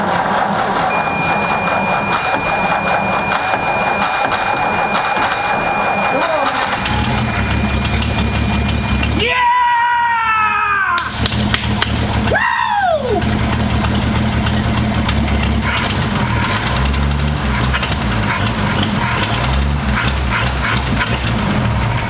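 A 1960 Ford F100 truck engine cranks with whirring starter bursts, then catches and settles into a steady rumbling idle, close and loud, with a faint tonal whine early on.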